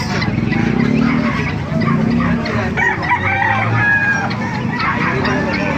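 A white Kelso gamefowl rooster crows loudly and close by, its harmonic call rising over a busy, noisy yard with other birds in the background.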